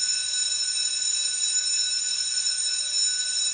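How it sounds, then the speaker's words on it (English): A loud, continuous electric bell or alarm rings without a break for several seconds, a steady high-pitched ringing tone that holds at the same level throughout. "That bell is long and loud."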